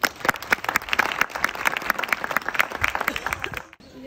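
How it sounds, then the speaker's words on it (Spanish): Applause from the audience at a women's photography exhibition opening, dense rapid clapping that holds steady and then stops abruptly near the end, with a faint voice after. "Un aplauso."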